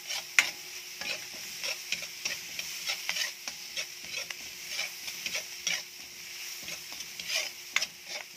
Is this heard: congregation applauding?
no